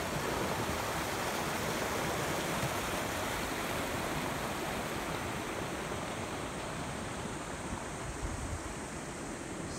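Steady broadband rush of stream water flowing at a Fukushima countryside park, continuous and fairly faint, an unbroken wash with no voices over it.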